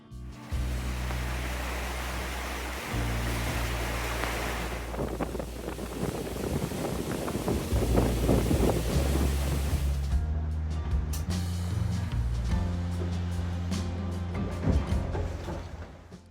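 Loud, steady rush of wind and water on the Atlantic during a rally crossing from Gran Canaria to St Lucia, broadband roaring noise with low engine-like hum underneath, growing messier and louder throughout.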